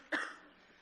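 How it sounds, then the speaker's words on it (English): A single short cough at a city council meeting, sudden and fairly faint, ending in a brief fading tail in an otherwise quiet room. "I'm afraid I'm going to cough a little bit through this."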